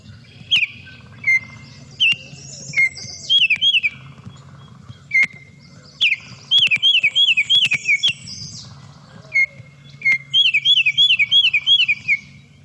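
A Baltimore oriole calls repeatedly, clear whistled notes alternating with short rapid runs of chirps over a low steady hum.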